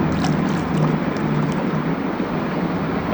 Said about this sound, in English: And now to water it.